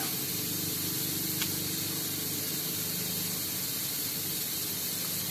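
Pressure cooker hissing steam while cooking bulalo, beef shank soup, a steady broadband hiss that stays constant and fairly loud throughout with no talking.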